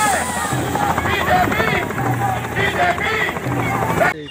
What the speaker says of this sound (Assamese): আজিৰ এই ভিডিঅ'টো হেলিকপ্টাৰ কেনেকৈ লেণ্ডিং কৰে আৰু কেনেকৈ উৰি যায় তাকে অলপ দেখুৱাবলৈ চেষ্টা কৰিম।